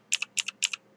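Three quick computer keyboard key presses, each a sharp double click, come in an even rhythm, close and fairly quiet, with no voices.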